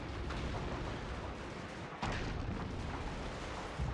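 Artillery fire in the strategy video game Fall of the Samurai: a dense, continuous rumble of booming cannon shots and crackling blasts, with a sharp burst of louder volleys partway through, loud and sustained without pause.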